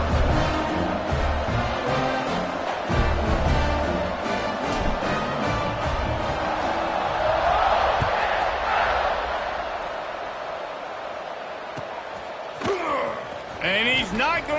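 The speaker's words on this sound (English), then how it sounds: "this crowd is buzzing after that last score" Football stadium crowd buzzing after a score, a broad loud roar that fills the background throughout while a commentator talks over it, fading somewhat toward the end.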